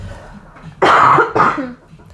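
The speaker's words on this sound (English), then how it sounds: "I do need to cough." Two harsh, close coughs in quick succession, loud and raspy, with no talking around them.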